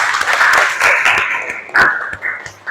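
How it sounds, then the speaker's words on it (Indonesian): A classroom of students claps for a classmate who answered a question, a dense burst of hand claps that thins after the first second, with a brief renewed spurt near the end and no talking. "Beri tepuk tangan untuk teman kamu yang sudah jawab."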